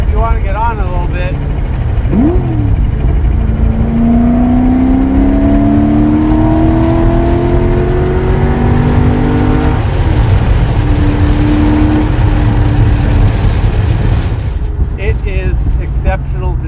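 A 1965 Ford GT40 Mk V accelerating, its engine and exhaust roaring loud and close as the revs climb steadily through long pulls, with a sharp crackle and a sudden cut near the end.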